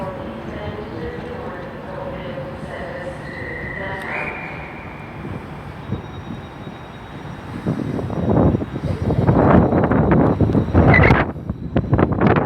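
Avanti West Coast locomotive 90016 departs Glasgow Central with a sustained electric hum and rising tones, then grows louder with rhythmic clattering toward the end. Someone talks over the early part.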